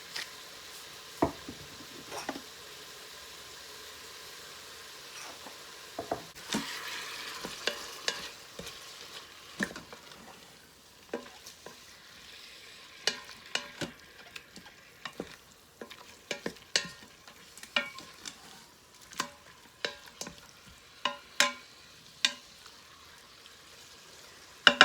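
Meat searing in a pan for Cajun red beans and rice, a soft steady sizzle with scattered clicks and scrapes of stirring, growing busier midway, close and fairly quiet with no talk.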